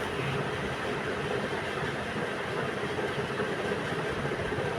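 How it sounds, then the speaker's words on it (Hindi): A sewing machine stitches along the edge of a girls' capri waistband, a dense continuous whirring rattle at steady loudness throughout, no voices. "फिर इस तरह से किनारे पर सिलाई करेंगे"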